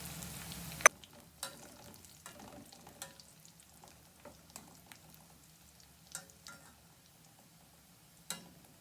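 Sliced red chillies and onion frying in oil in a pan, a faint steady sizzle broken by occasional light clicks and stirring taps, quiet and close with no voices.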